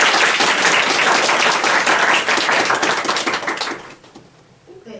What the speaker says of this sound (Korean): 좋은 말씀 해주신 선배님께 다시 한번 큰 박수 부탁드립니다